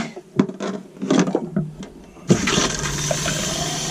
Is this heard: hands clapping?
no